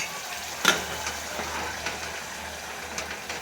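Tomato gravy sizzling in a pan in a home kitchen, with a sharp spattering burst as it lands, then a steady low frying hiss with a few small pops, moderately loud and close.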